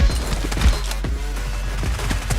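In a video game, a UMP submachine gun fires a rapid burst of shots, loud and close, continuing without pause.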